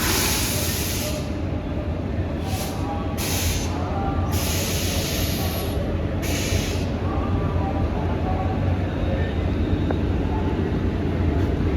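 A WAP5 electric locomotive hauls the Howrah Vibhuti Express with its new LHB coaches, giving a steady rumble and rolling train noise. Bright high-pitched bursts sound repeatedly in the first seven seconds, and the low drone continues after them.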